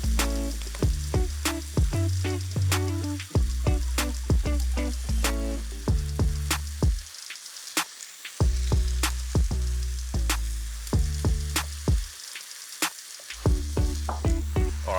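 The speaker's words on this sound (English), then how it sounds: "So we're just going to give this a good stir and cook it for a few minutes until those veggies are starting to soften" Cabbage and other vegetables fry for chow mein while being stirred, a continuous sizzle broken by repeated sharp clacks of a utensil against the pan in an irregular rhythm, close and fairly loud, with no one speaking.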